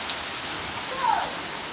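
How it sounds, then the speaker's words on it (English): Steady, dense rain from a thunderstorm pours down with a constant hissing wash, with no voices over it. "It's like a normal rain though. Just pouring."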